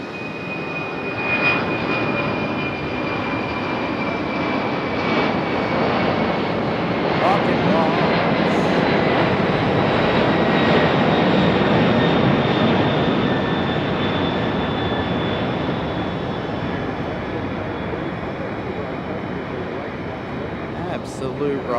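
A FedEx jet taking off at Raleigh-Durham airport at night, a loud sustained engine roar that swells and holds steady with a faint whine on top, heard from near the runway.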